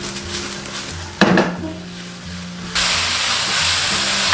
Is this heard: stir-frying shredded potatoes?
yes